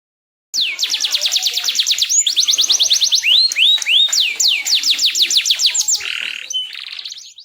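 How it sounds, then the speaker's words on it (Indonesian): A German Harz roller canary sings close and loud, repeating rapid rolling trills and whistled phrases in quick succession, alone against a quiet background. "Kenari roller merupakan kenari asal Jerman, yang dikenal dengan nama German Harz Roller Canary atau Harzer Canary"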